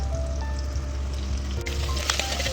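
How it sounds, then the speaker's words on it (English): Chopped onions sautéing in hot cooking oil in a pan while making Hyderabadi-style kheema, giving a steady, close sizzle that holds throughout with a few brighter crackles near the end. "After the oil is heated, I'm adding the onions and I will saute them until they turn their color and become soft"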